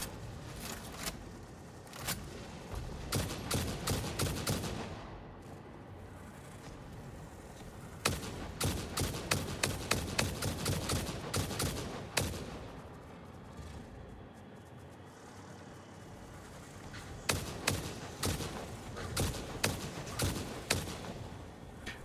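Gunfire in the video game Satisfactory crackles in dense bursts of rapid shots at enemy creatures, loud and continuous with brief pauses between volleys over a rumbling background.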